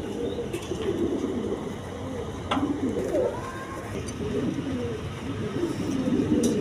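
Cream-coloured Mundian pigeons, a tagged pair, coo softly in low repeated phrases amid faint rustling and a brief flutter, with steady background noise.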